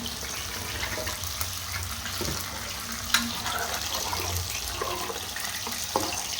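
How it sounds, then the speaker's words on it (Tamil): Ground coconut paste poured into a simmering chicken kurma, a continuous wet, watery pouring and bubbling wash heard close, with a couple of small knocks and no voices. "தேங்காய் அரைச்சி வச்சு தேங்காய் ஊற்றிடலாம்"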